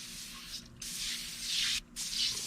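Super Clean cleaner sprayed from an aerosol can onto a dirty UTV, a close hissing spray in three bursts with two short breaks, under no talk.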